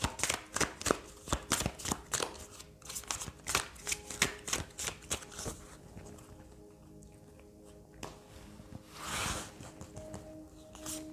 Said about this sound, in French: je vais tomber quelques cartes, je vais les ramasser